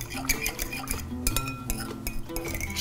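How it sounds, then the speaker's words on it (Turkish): A spoon stirring yeast into warm milk in a bowl, with repeated clinks and scrapes of utensil against dish in an irregular rhythm, close and moderately loud, while preparing dough for Mardin-style sembusek flatbread. "Önce ılık süt, sıcağa yakın ılık sütle mayayı karıştırıyoruz."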